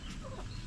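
A chicken clucks faintly at close range in a home setting, a short soft burst over low background rumble with no talk.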